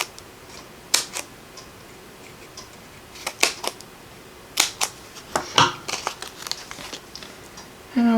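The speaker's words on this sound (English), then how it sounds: "I'm going to cut just a couple more of these little pieces." Small paper pieces for a handmade birthday card are snipped with scissors, giving sharp, separate cutting clicks spaced irregularly over a quiet background.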